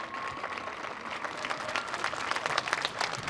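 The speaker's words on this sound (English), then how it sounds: "Yes, round of applause for Principal Rodriguez." A school audience at an elementary renaming ceremony claps for the principal, a moderate crowd applause that builds slightly over a few seconds, heard from within the room.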